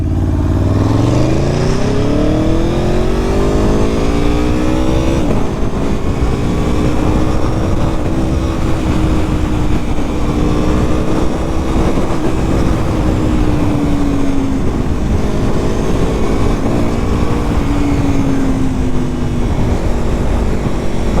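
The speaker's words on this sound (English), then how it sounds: "Gonna pop it into gear, and off we go." A 2017 Aprilia Tuono motorcycle clicks into gear and pulls away, its engine loud and close, rising in pitch through repeated accelerations and upshifts as the bike rides off, steady wind roar underneath.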